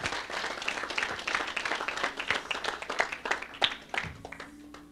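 A church congregation claps in praise of the Lord, a moderately loud, uneven patter of hands with distinct individual claps standing out, tapering off toward the end.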